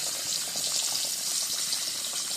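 Chicken pieces shaken in seasoning sizzle in hot oil, a steady, close, bright crackling hiss that holds without a break.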